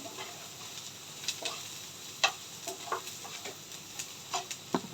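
Onions sizzle softly in oil in a clay pot while a spoon stirs them, faint frying hiss punctuated by irregular clicks and scrapes of the utensil against the pot, with no speech.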